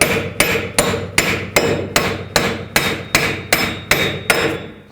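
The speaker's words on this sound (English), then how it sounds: "give it a couple taps with a hammer." A hammer strikes an axle nut sitting flush on the end of the axle through the wheel hub of a 2005-2009 Chevy Equinox, about a dozen sharp, evenly spaced metallic taps, loud and close, with no voices.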